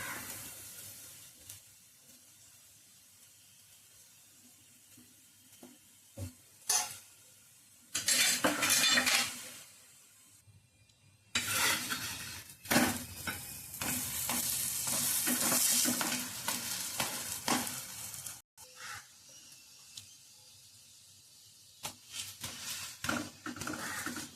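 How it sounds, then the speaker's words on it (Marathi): A stuffed matar paratha is turned and roasted on a hot pan, with scraping utensil strokes, pan clatter and bursts of sizzling in uneven spells separated by quieter gaps. "आता आपण पलटवून घेऊन दुसरीकडून छानपैकी शेकून घेऊ"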